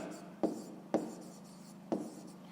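A pen writes on paper during a maths exercise, giving three distinct short scratchy strokes over a faint steady background, quiet and close.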